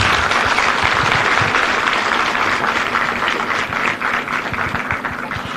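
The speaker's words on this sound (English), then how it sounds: "Please welcome with an applause." A lecture audience at a university claps warmly for a visiting Nobel laureate, dense steady applause filling the hall at full volume from start to finish.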